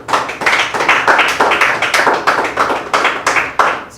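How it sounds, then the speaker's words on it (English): A studio audience at a talk show claps in a round of applause, loud and close with distinct rhythmic bursts of hands repeating steadily, no voices over it. "A round of applause for them, please."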